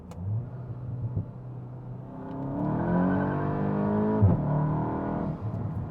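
A tuned VW Mk8 GTI pulls hard at full throttle in second gear, its engine note rising steadily in pitch and loudness and holding a strong, rising drone from inside the car.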